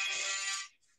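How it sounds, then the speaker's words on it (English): Mobile phone ringtone during a live talk show, a faint bright electronic chime lasting about half a second before cutting off into quiet. "No, that's my phone ringing."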